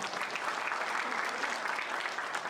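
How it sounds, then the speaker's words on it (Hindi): An audience applauds steadily throughout, a dense, sustained wash of clapping from many hands. "अभी आप सब लोग बैठे हैं, सब मेरे लिए तालियां बजा रहे हैं,"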